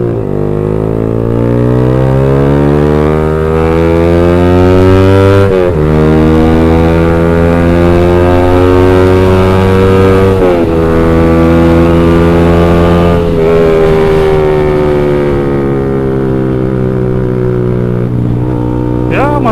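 A motorcycle with a mostly stock, tuned-up engine, a 32 mm header and an X1 Speed Pro One exhaust idles and revs loudly up close, its deep bassy drone rising and falling through several rev sweeps.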